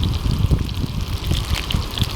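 Water poured over pour-over coffee at a winter wilderness campsite, a steady close trickle with gusty wind rumbling underneath.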